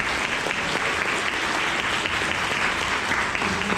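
Warm audience applause welcoming a speaker onto a stage, dense continuous clapping from a sizeable crowd that stays loud and even throughout, with no voices over it.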